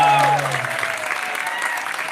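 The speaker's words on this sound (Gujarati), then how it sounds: "એકવાર જોરદાર તાળી." Audience at a Guru Purnima satsang gathering in Somerset, New Jersey bursts into steady, dense applause that holds for about two seconds, with a lingering sung or spoken tone fading underneath at the start.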